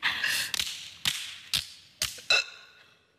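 A voice imitates hiccups with about five short, sharp, evenly spaced gulping pops, close and fairly loud, with a breathy sound before the first.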